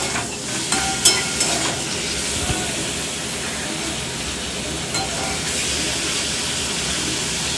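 Frying and stirring in a pan while making veg paneer pulao: a loud, continuous sizzle with scattered scraping clinks from the stirring, close up and without talk.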